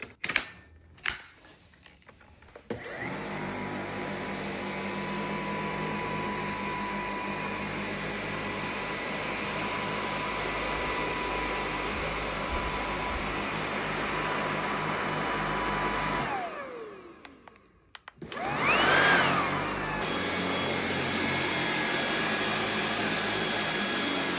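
A Dyson V8 Cyclone cordless vacuum cleaner runs with a steady, fairly quiet whir for most of the span, briefly cuts out near the end, then starts up again and keeps going, with no talk.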